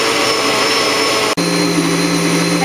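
A blender pureeing a spinach smoothie runs loud and steady, roaring without letup, with a brief dropout partway through before the motor pitch settles slightly lower.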